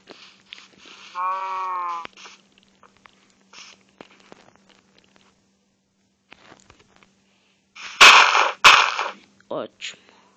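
Cattle and pig noises from the Minecraft video game: a harmonic lowing call near the start, scattered small clicks and taps, then a louder burst of blocky rustling near the end.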